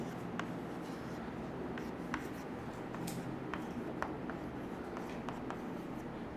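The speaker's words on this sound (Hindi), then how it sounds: "की पॉइंट्स लिखते हैं हम इसमें।" Pen scratching steadily on paper as key points are written out by hand, a continuous close scribbling with small irregular strokes and taps, with no talk over it.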